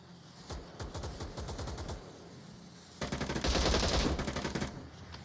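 Suppressive automatic gunfire in the VR shooter Onward: rapid bursts of rifle fire at moderate distance, a short pause, then a louder, denser stretch of close fire that tails off near the end.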